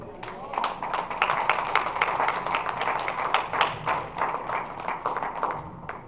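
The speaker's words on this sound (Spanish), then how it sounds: "Den un aplauso al Rey" A church congregation claps steadily for several seconds, the quick overlapping claps forming a continuous patter with voices mixed in.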